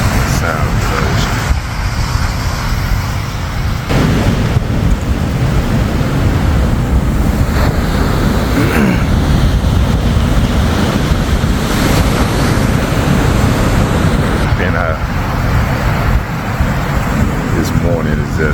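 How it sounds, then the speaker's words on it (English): Ocean waves breaking on a shore in Ghana, a loud, continuous roar of surf with heavy wind buffeting the microphone. "Ocean, sound of the ocean."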